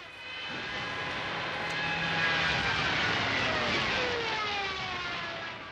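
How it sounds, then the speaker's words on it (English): A squadron of German WWII bomber planes drones steadily in archive footage of a bombing raid on Wieluń. The engine roar is broad and continuous, swelling slightly in the middle and then easing. "The Polish filmmaker Jan Srekowski views archive material of a squadron of German planes bombing Wieluń."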